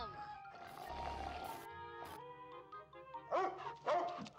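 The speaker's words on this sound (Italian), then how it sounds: "Look at this sweet puppy." A dog in the video game Amanda the Adventurer 3 gives several yips and barks with whimpering tones, growing louder toward the end, mixed with speech.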